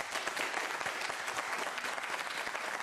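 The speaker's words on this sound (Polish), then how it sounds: "ja się bardzo cieszę z tych brawa" Steady, dense applause from a live audience at a youth political debate, continuous and fairly loud throughout with no talk over it.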